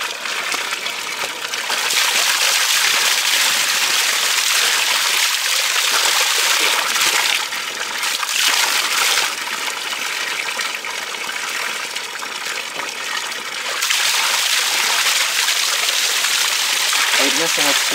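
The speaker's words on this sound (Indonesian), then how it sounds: "Saya akan mencoba cuci muka dengan air ini" Water splashes and gushes steadily as a face is washed, a loud continuous wash with short dips in intensity, close up and without talk.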